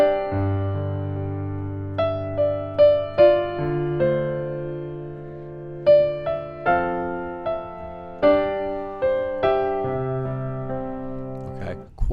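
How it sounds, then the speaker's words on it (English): Keyboard playing a song example in open chord voicings, with sustained layered chords and a melody of single notes over them, clear and close with no talking. "I'm going to play the same song example using more of an open voicing"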